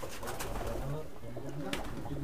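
Madrasi highflyer pigeons coo in a loft, a steady close-up burbling with overlapping low calls throughout.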